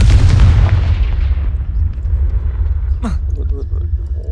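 A Confringo spell blast in Hogwarts Legacy lands as a loud, booming explosion with a deep rumble that slowly fades, followed by a brief sharp whoosh and quieter game effects, while a voice speaks over it.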